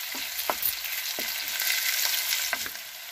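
Onions with a pinch of salt sautéing in a pan, a steady bright sizzle with several distinct scraping strokes of a spoon stirring them, close and continuous without any talking.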